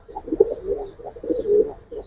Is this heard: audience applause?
no